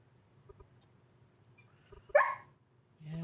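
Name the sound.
dog barking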